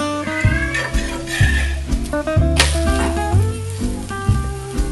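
A moong dal and rice dosa fries on a hot pan, giving a loud, steady sizzle with crackling pops and a few brief metallic scrapes from a turner, close up, no talking.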